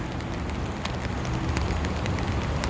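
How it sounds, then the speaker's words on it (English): Steady rain falls across Lakeshore Park in Streeterville, downtown Chicago, on a mild April morning, a dense, even hiss of drops with occasional sharper spatters and no talking. "and it's raining right now."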